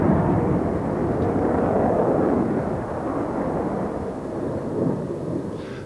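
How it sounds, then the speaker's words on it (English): An RAF Tornado F-3 swing-wing air defence fighter flies past at an air show, a loud, sustained broadband jet roar that holds steady throughout and eases slightly midway. "here is the frontline fighter of today's Royal Air Force, the Tornado F-3, the air defense version of the swing-wing MRCA multi-role combat aircraft"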